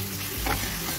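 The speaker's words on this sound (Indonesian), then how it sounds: "Kemudian gongso lagi hingga daging ayamnya ini berwarna pucat." Garlic and minced chicken stir-fry in a little oil, giving a continuous close sizzle with a brief scraping stir in the middle.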